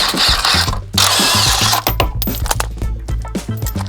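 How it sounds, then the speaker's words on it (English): Ratchet or power tool removing the bottom bolts on a wrecked Honda Civic, a loud, close mechanical whirring and clicking that rises and stops in short bursts with metallic clinks between them. "All right, got the 4 bolts off at the bottom."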